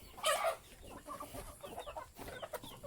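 Chickens cluck in a rural outdoor setting in Thailand, with a quiet, irregular series of short clucks and squawks heard a little way off, with no talking.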